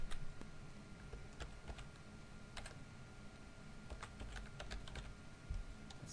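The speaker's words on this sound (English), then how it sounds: "I type the name of the server" Typing a server name on a computer keyboard, a quick run of soft, close key clicks in uneven bursts over a quiet background hum.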